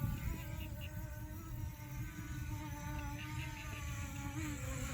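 S116 RC drone with brushless motors buzzing in flight, a steady high insect-like whine with layered harmonics held for several seconds at a moderate distance, with no voices over it.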